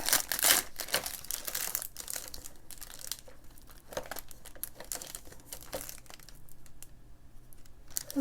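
A compostable wood-pulp wrapper on a HIP oat milk chocolate bar crinkles and tears as it is opened, close crisp rustles and crackles in short bursts, loudest at the start, with no talk.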